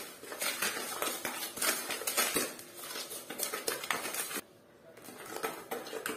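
Eggs and sugar are stirred briskly in a bowl for banana cake batter, a busy rhythmic clatter of a utensil scraping and tapping the bowl, close and continuous, with a brief pause before it resumes.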